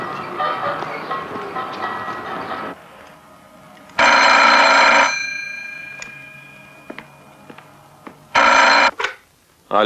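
An old telephone bell rings loudly in two long electric trills with a quieter stretch between, and a brief final ring cut short, following some background speech at the start.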